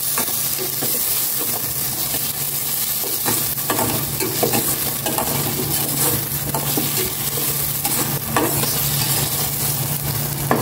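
Tomato and onion fry in a hot pan with a loud, continuous sizzle, close up, with occasional stirring and scraping of the pan throughout.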